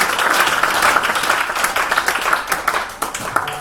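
A church congregation applauds during a worship service, loud close clapping that thins toward the end of the burst.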